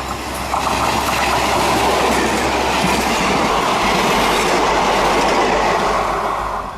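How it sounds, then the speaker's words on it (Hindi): The Amritsar-Jalandhar DMU express train rushes past with a loud, steady roar and rhythmic wheel clatter, close and continuous throughout, with faint squealing over the rumble. "चलिए मैं आपको यह फुटेज दिखाता हूं अमृतसर जालंधर एक्सप्रेस का"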